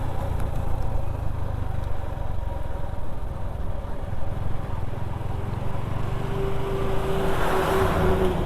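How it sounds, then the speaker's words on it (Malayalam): On the road at the top of Idukki dam, a small vehicle's engine hums and drones steadily as it draws nearer, rising slightly toward the end over a constant motor rumble. "ഒരു ചെറിയ വണ്ടി വരുന്നുണ്ടല്ലോ"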